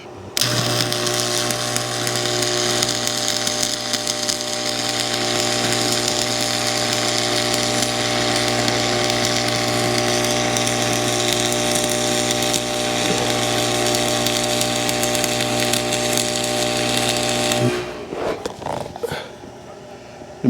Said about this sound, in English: Let me do a couple more welds here